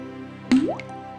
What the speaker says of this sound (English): The roof is slowly leaking.